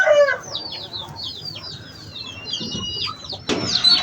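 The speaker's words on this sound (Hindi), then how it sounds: "यहाँ पे मुर्गी बैठी है" Hens and chickens in a village coop make a run of short, high clucks and squawks close by, with a rooster-like cry mixed in and a louder burst of flapping or scuffling near the end. No one speaks.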